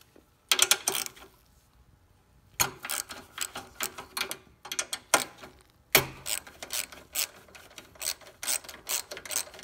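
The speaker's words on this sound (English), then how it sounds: "So now we gotta remove 1 bolt here and 1 bolt there." Ratcheting a wrench to remove bolts from a Troy-Bilt sickle-bar mower: bursts of rapid, sharp metallic clicks close up, separated by short pauses, with no talking.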